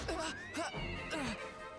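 A horse in Dragon Quest XI lets out a loud, wavering whinny, several rising and falling squeals across about two seconds, heard alone without speech.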